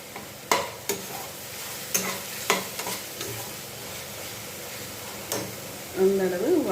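Chutney ingredients sauté in a pan, a soft sizzle under sharp spoon taps and scrapes against the pan, with a voice speaking briefly near the end.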